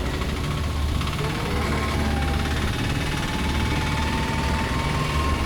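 Rented Honda Dio and Fascino scooters ride along together, a steady engine drone mixed with wind rush and road noise, continuous and fairly loud.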